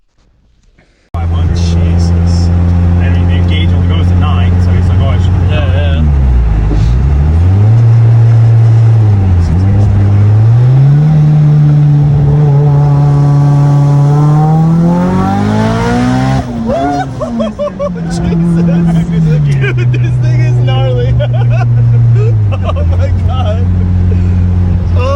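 A big-turbo Mitsubishi Eclipse GSX with a 6870 PTE turbo, heard loud from inside the car on a drive, revs through several gears. Each pull climbs in pitch before dropping at the shift, with speech partly audible under the engine.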